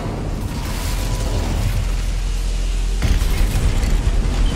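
The Incendio fire spell cast in Hogwarts Legacy, giving a loud, sustained fiery roar with a sharp burst partway through that swells the flames louder.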